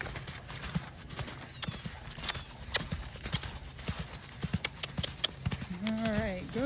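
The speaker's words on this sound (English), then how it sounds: "And then we'll go ahead and try to canter." A horse canters nearby, its hooves clip-clopping in a quick, uneven rhythm on the ground, with a brief voice-like tone near the end.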